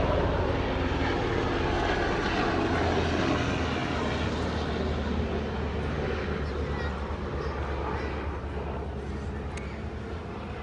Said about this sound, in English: Another naval helicopter.